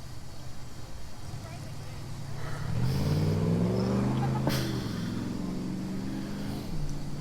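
A voice imitates a monster truck engine, a rumbling growl that swells and rises in pitch midway before settling, heard over a steady noisy background.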